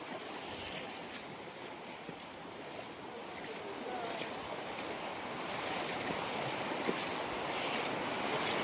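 Ocean waves at high tide washing continuously near a rocky shore, a broad steady surf roar mixed with wind buffeting the microphone.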